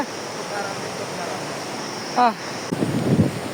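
A waterfall near Gaighat in Galkot pours with a steady, even rush of water that fills the whole clip, with wind buffeting the microphone and a brief chirp and some muffled sounds near the end.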